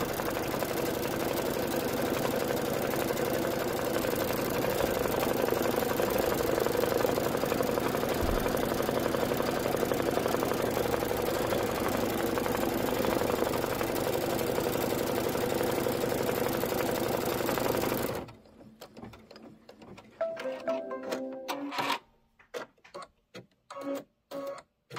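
A home embroidery machine stitching white thread lettering on a quilt block, a steady mechanical whir for a long stretch, then stopping and giving way to a few irregular clicks and short mechanical bursts.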